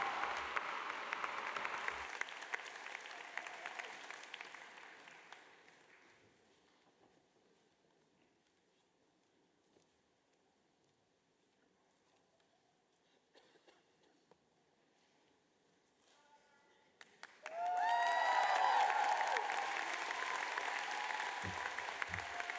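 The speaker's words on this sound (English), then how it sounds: "Give her a big round of applause." Audience applause at a university design school graduation ceremony, loud clapping that fades to near silence mid-clip, then bursts back in strongly and sustains for the last few seconds.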